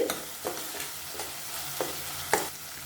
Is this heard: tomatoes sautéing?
yes